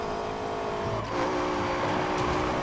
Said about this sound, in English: It's such a fast car.